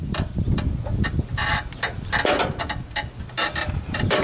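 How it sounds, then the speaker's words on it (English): Torque wrench ratcheting and clicking while tightening the blade nut on a Troy-Bilt Pony riding lawn mower, crisp repeated metallic clicks in quick bursts, close and loud. "I'm going to use my torque wrench, and when it clicks, you're going to know you're at your desired tightness"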